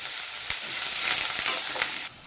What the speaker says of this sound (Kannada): ಇದು ಈರುಳ್ಳಿನ ಗೋಲ್ಡನ್ ಕಲರ್ ಬರೋವರೆಗೂ ಫ್ರೈ ಮಾಡ್ಕೋಬೇಕು.